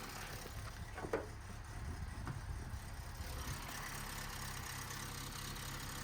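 An Opel Corsa engine running with a slight skip, a steady low idle rumble with a couple of faint knocks early on and no talking.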